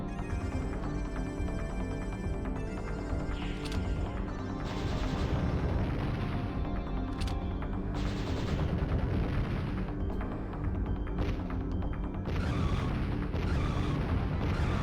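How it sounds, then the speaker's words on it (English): A high-speed cannon in the Panzer Dragoon Saga video game fires in a loud, continuous barrage of rapid booming shots with crackling blasts and no letup. "High-speed cannon."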